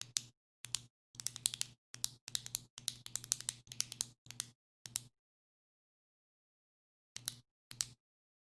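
Ballpoint pen clicked again and again in close, sharp bursts of rapid clicks, a run of tight clusters followed by a pause and then two more isolated bursts, heard alone.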